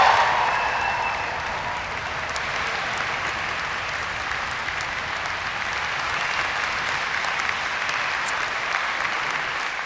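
Graduates fill a ceremony hall with sustained, dense applause and cheering, a steady broad wash of clapping from a large crowd that holds level throughout.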